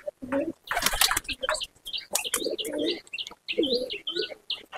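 Malwai pigeons in a loft coo and chirp in short bursts close by, mixed with someone speaking.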